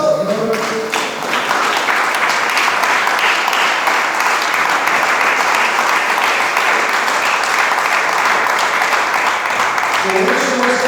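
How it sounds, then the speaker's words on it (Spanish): A church congregation claps together during a sermon, a loud, steady wash of many hands lasting several seconds, with brief voices heard at the very start and end. "Dele palmas al Señor."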